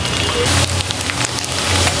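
Pieces of meat frying in hot oil in a home kitchen pan, a steady dense crackling sizzle running continuously and fairly loud up close, with no voices.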